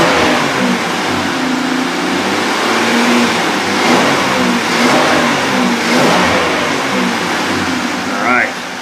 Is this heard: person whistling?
no